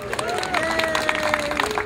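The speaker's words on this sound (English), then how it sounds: "Big round of applause for everybody involved." Crowd applause at a Christmas parade ceremony: scattered clapping and cheering from an outdoor audience under a voice speaking over a loudspeaker, brief and moderately loud.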